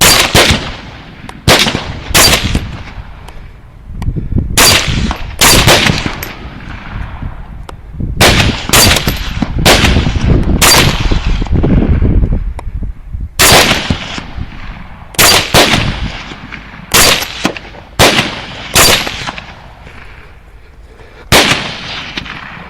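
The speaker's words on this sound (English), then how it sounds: "he's going to fire when I fire" Rifle shots ring out during a hog hunt, about twenty loud, sharp reports in irregular bursts and clusters, close by, with echoing tails between them.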